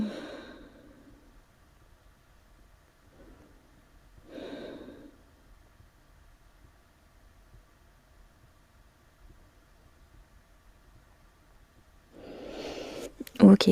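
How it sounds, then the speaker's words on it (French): A person lying flat on a yoga mat breathing slowly during a gentle beginner morning routine, soft breaths rising and falling with long quiet gaps, then a louder rustle near the end. "Prenez un moment ici pour respirer."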